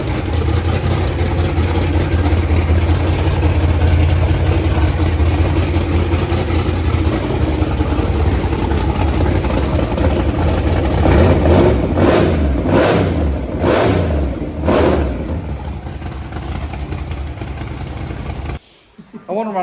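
A 1000-horsepower drag car engine built from a barn find, loud and close, idling with a heavy rumble and then hit with several sharp revving blips before cutting off; voices talk over it.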